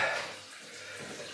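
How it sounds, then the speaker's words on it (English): Water drains out of a bathroom sink with a soft, gurgling wash, faint and close, swelling briefly at the start and again at the end. "Let the water out."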